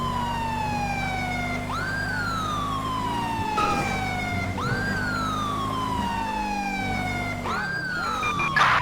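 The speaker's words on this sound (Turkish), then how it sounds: "Abi bak Allah Allah polis geliyor duymuyor musun serini?" Police car siren in GTA 5 wailing in repeated rising-and-falling sweeps, loud and close over a low engine rumble, continuing throughout with a few brief clatters.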